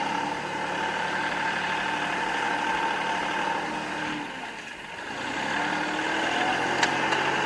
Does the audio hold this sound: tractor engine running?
yes